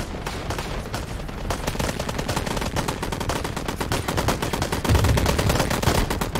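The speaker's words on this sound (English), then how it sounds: "This guy is literally firing his gun into the mounted gun" Relentless rapid gunfire in the Call to Arms war game, dense overlapping machine-gun and rifle bursts rattling continuously at close range with heavy thuds, growing slightly louder toward the end, no speech.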